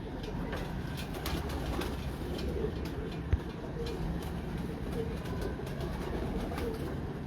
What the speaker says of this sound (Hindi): ये कबूतर है 18 नंबर, मेन बड़ा कबूतर 18 नंबर